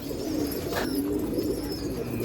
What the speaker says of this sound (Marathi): हा इलाहाबादी कबूतर आहे बा, फेस्टिवल मारलेला आहे